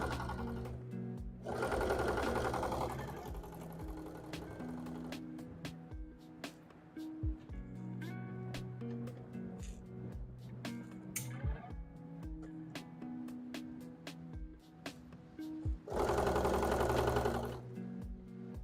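A sewing machine stitches in stretches of rapid mechanical whirring, with louder bursts near the start and end and quieter clicking and handling noises between, no voices.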